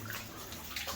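Water trickles and splashes steadily through the roof of an old mine, a continuous wash of dripping and running water close by with no voices.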